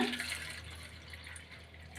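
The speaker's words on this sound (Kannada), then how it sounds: "ಈಗ ಒಂದು ಬೌಲ್ಗೆ ಹಾಕೊಳ್ಳೋಣ ಸೊ ಅದಕ್ಕೆ ನೀರು ಸೇರಿಸ್ಕೊಳ್ಳೋಣ" Water is poured into a bowl of shelled tamarind: a short splash at the start fades into a faint, close trickle, with no talking.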